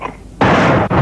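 A loud, close gunfire blast in a war film, a sudden burst that starts abruptly after a quieter moment and holds as a dense roar, with a brief dip and a second burst near the end.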